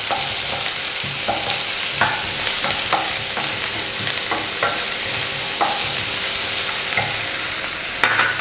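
Onions for tomato rice fry in a pan with a loud, steady sizzle while a spoon stirs them, scraping the pan in repeated strokes close up.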